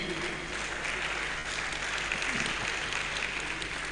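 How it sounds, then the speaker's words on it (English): Steady audience applause fills the hall at a Nigerian Institute of Building event, a dense, continuous patter of many hands clapping at even loudness throughout. "So let's applaud him."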